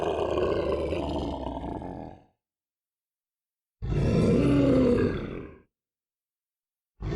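Two long, deep lion roars, loud and close, separated by a few seconds of silence, with another roar just starting at the end.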